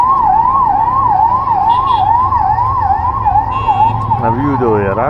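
An ambulance siren wails in a steady, repeating up-and-down cycle, loud and near, caught in a traffic jam on a hill road near Dhanaulti and Dehradun, with traffic rumble beneath and a second siren pattern sweeping in near the end.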